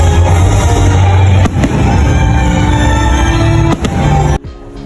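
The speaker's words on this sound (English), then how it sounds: "We then watched the fireworks." Loud, continuous fireworks at Epcot, Disney World, with deep booms and crackling bursts, two sharp louder bangs standing out, before the noise cuts away at the end.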